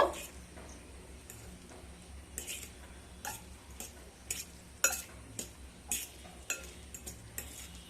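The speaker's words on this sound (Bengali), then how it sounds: "জল ঝরিয়ে নেওয়া ম্যাগিগুলোকে দিয়ে দেব দিয়ে খুব ভালোভাবে মিশিয়ে নেব" Drained Maggi noodles being mixed in a pan for lemon coriander Maggi masala, giving soft scraping and clinking stirs at an irregular rhythm over a low steady background hum, with no talking.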